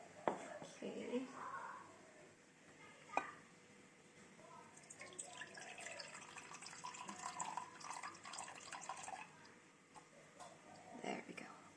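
Fruit yeast water, 100 millilitres taken from a refrigerated batch, poured in for artisan bread dough: a close, steady trickling splash that builds after a soft clink, with faint background movement and no clear talk.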